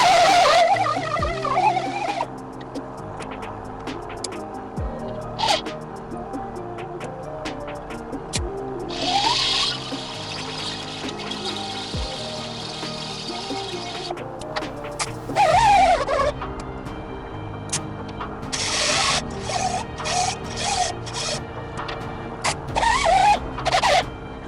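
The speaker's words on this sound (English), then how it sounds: "Waiting for the compressor to shut off." An air compressor runs in a workshop during restoration of a 1949 Jeep Willys pickup tailgate, with a steady low motor hum throughout and scattered metallic clanks and knocks over it.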